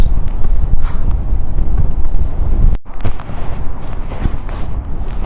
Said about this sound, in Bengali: সমুদ্র প্রচন্ড উত্তাল আজকে বাতাস